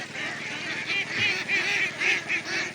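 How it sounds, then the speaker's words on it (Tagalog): A flock of three-month-old ducks being herded outdoors, honking and quacking repeatedly in a close, continuous chorus of nasal calls. "Ang itik natin ngayon guys ay nasa sulat 3 buwan na guys."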